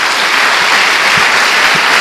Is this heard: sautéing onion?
no